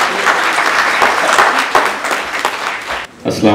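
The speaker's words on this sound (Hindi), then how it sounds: "जोरदार तालियां हो" A hall audience at a book launch gives loud, sustained applause to welcome a speaker on stage. The clapping dips briefly near the end before a voice comes in.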